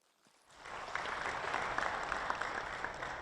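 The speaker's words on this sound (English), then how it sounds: "let's applaud the presenters and let's thank them." A conference audience at an international health research event applauds the presenters, clapping swelling in within half a second into dense, sustained applause from a full room.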